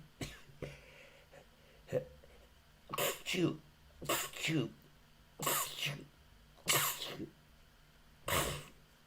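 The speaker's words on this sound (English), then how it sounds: "That's my sneeze of the day." A string of sharp, explosive sneeze bursts, about seven, spaced a second or so apart, close to the listener with quiet breaths between.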